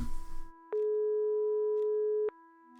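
A single steady electronic telephone call tone from the video game Broken Sword 5 sounds clearly for about a second and a half, clean and unbroken, following a brief muffled rustle.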